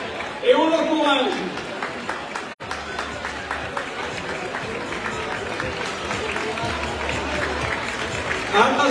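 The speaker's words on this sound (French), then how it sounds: "on l'applaudit, et on l'encourage" Spectators at the finish of the Trail Glazig 59K 2023 trail race clap and cheer as the winner arrives. The applause is mixed with crowd chatter and a loud announcer talking over it throughout.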